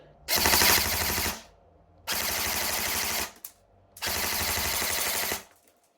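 A Well Pro WE09 AK12 airsoft rifle fires 0.2 gram BBs in three loud, close full-auto bursts of rapid, even buzzing shots, each lasting about a second, separated by short silences.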